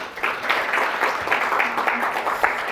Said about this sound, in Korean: 힘찬 박수로 모셔보도록 하겠습니다.